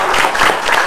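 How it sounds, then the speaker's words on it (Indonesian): Audience applause in an indoor seminar hall, a dense wash of many hands clapping steadily and loudly for a short burst, with no voices over it. "Tepuk tangan dulu dong"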